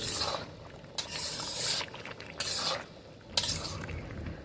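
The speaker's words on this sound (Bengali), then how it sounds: "সুন্দরভাবে মাংসটা কষানো হচ্ছে।" Mutton pieces being sautéed in a pan for a curry, with a spoon scraping and stirring in repeated bursts over a steady frying hiss, close and fairly loud, no talking.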